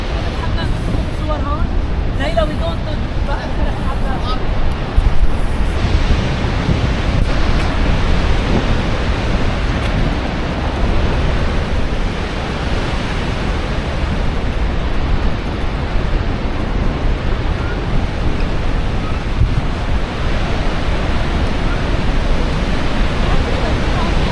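A constant, heavy roar of rushing water at Niagara Falls, dense and unbroken throughout.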